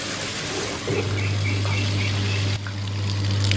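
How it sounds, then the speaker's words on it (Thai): A steady stream of water gushes and splashes continuously from a tap fed by a Walrus WQ electric water pump, over its low constant mechanical hum, nearby and fairly loud. "โอ้ น้ำออกแรงมาก"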